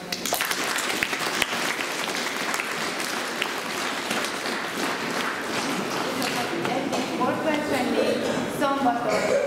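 A crowd applauds steadily throughout at an advent candle-lighting gathering, dense clapping filling the room at a loud, even level, with a few voices faintly mixed in.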